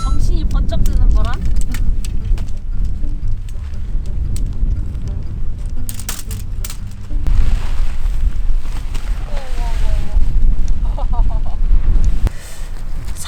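Strong wind blows across an open campsite, buffeting the microphone in loud gusty roars, with intermittent clattering and handling noises.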